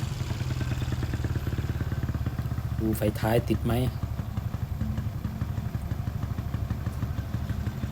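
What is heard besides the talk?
2005 Honda Wave 125i motorcycle engine revving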